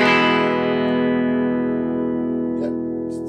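An electric guitar chord rings out through a TC Electronic Spark boost pedal set to 12 o'clock, loud and distorted, sustaining steadily and slowly fading over a few seconds.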